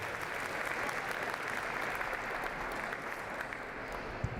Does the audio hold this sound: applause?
yes